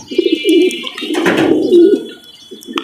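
Pigeons coo in low, rounded repeated phrases, a bird kept by a fancier and admired for its feathers and eyes, with a short burst of louder fluttering midway and faint chirps above, close by.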